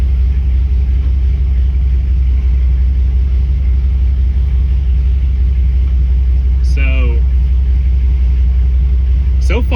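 A Dodge Durango with an NV3500 manual transmission swap runs as it drives off, a loud, steady low engine rumble throughout, with brief squeaky sounds near the end.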